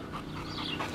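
A heavyset dog pants steadily, close by, in quick rhythmic breaths over the full second with no talking.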